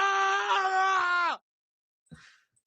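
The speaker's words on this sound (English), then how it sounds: "I'll give you a Scream for that." A soundboard scream effect played on a livestream: one loud, sustained voiced scream lasting just over a second with a slight drop in pitch at the end, then silence and a short, faint breathy vocal sound.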